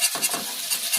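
A spoon stirring soybean vegetable curry in a pan, several quick scraping strokes with a faint sizzle, close and fairly loud.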